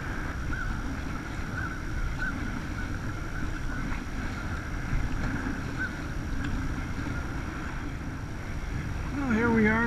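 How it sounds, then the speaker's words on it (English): Steady wind blows across open water during a stand-up paddleboard outing, a continuous broadband rush close to the microphone that swells slightly near the end. "This wind's coming up nicely."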